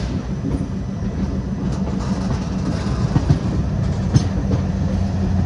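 An ALCO locomotive running on rails in India, giving a steady, loud rumble with faint clickety-clack of wheels over rail joints and a few sharper knocks throughout.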